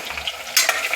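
Onion and bitter gourd fry in oil with curry leaves while being stirred, a steady close sizzle broken by sharp scraping strokes of the spoon, loudest around the middle, with no talking.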